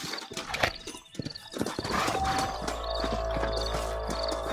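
Horses in Red Dead Redemption clip-clopping along, hoofbeats mixed with creaking tack and a low rumble as riders move off, moderately loud with no talk.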